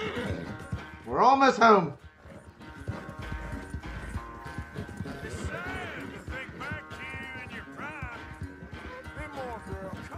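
Horse in Red Dead Redemption 2 gives a loud, close neigh followed by rhythmic clip-clop of hooves at a run, with someone talking over the hoofbeats.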